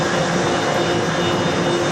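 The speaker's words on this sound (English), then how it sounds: "the plane is getting lower and lower to the ground" Airplane jet engines roar loud and steady from inside the cabin as the plane descends to land, a continuous broadband rush with a faint high whine.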